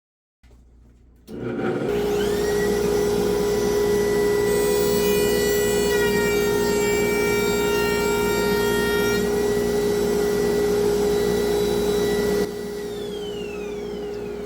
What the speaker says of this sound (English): putting on the vacuum attachment for the side of the router itself, and see if that pulls better than the trim vac